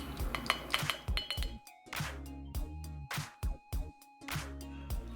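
A scoop of Neocell Super Collagen powder tapped repeatedly against a glass, giving a run of sharp, bright clinks and rings in quick, irregular bursts, close and clear with no talking.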